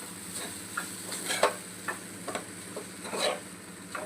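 Spoon stirring poha with squeezed lemon in a pan, soft scraping and light ticking strokes over a faint sizzle, close and gentle with no talk.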